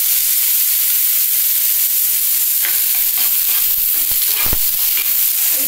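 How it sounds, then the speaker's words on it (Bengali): Chopped onion fries in just a little oil with turmeric, a close, steady hiss of sizzling with scattered clinks and scrapes from stirring in the pan toward the end. "এবার পেঁয়াজ কুচিটা দিয়ে দিচ্ছি"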